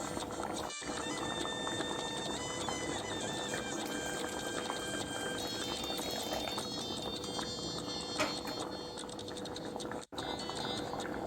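Coconut-milk fish curry simmering steadily in a pot, a continuous soft bubbling hiss laced with faint ringing clinks, close and alone without talk.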